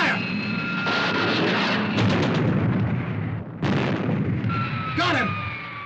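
A ship's cannon fires in a pirate battle scene, heavy explosive booms and rumbling blasts under dramatic noise, with whistling tones and a voice speaking amid the barrage.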